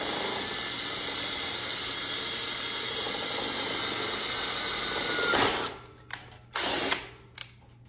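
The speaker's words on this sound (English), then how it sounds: "got my drill, holes drilled through" A power drill whirs steadily through a silver platter for several seconds, then stops, followed by a few short bursts and clicks, close and fairly loud.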